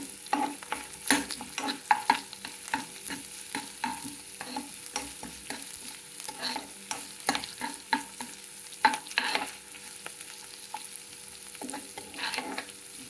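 Onion pieces fry with a pinch of salt in a pan while being stirred, a soft, close sizzle broken by repeated scraping strokes of the spoon, alone without voices.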